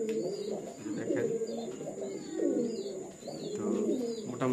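Several Golla pigeons coo close by, their soft throaty calls overlapping in a continuous rolling murmur with a few faint chirps mixed in.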